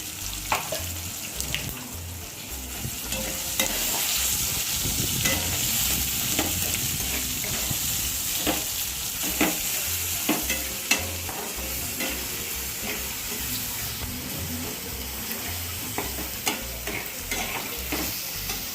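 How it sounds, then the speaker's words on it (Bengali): Spice pastes of dry fruit and garlic sizzle and fry in a pan for paneer tomato curry, stirred steadily with scraping strokes; a continuous close hiss with intermittent clatter of the spoon against the pan, no talking. "তবে ভাজা ভাজা হচ্ছে"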